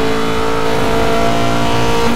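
A silver Alpha 14 car races in Need for Speed Most Wanted, its engine droning loud and steady with a sustained rev throughout.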